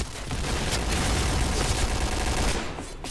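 Sustained AK assault rifle fusillade in an online shooter, dense rapid automatic bursts overlapping into a continuous roar for about three seconds, loud and close, easing off at the end.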